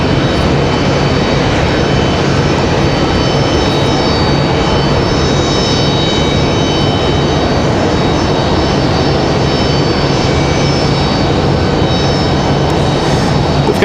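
Jet engines of a small airliner spool up at an airport, a loud continuous roar with steady high whine tones that hold evenly throughout, no talk over it.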